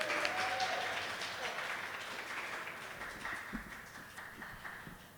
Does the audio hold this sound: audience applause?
yes